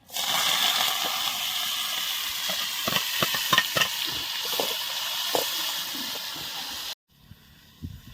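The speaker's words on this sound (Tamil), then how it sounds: "எண்ணெய் காயட்டும் தாளிப்பு சாமான் போடுறோம்" Tempering spices with fenugreek and rice sizzling in hot sesame oil for a village fish curry, a steady bright hiss with scattered crackles and stirring clatter close by, cutting off abruptly near the end before a quieter tail.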